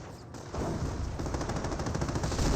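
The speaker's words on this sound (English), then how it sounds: "And got this double barrage here." Artillery barrage in the Company of Heroes video game: after a brief lull, a dense, continuous rumble of rapid firing and blasts rolls on steadily at moderate loudness.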